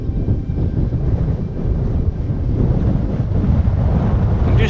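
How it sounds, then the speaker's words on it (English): Strong, blustery wind in the Lowther Hills of the Southern Uplands buffets the microphone, a heavy low rumble that swells and gusts continuously with no other sounds. "Sorry about the wind noise, but it is really blustery up here."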